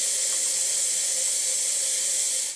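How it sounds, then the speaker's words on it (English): Steam hisses steadily as it is bled off the boiler of an Olympia espresso machine, a loud, continuous, bright rush that holds constant and cuts off at the end, with no talking. "when you bleed off some steam"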